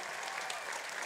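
Audience applause for a singer and his group after their performance at a flood appeal concert: a soft, even patter of many hands clapping, faint and distant, with no voices.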